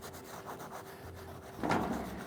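White non-grit pad scrubbing graffiti wipe-off on a brick wall: a short, faint rubbing scrub that starts late in the clip after a quiet stretch.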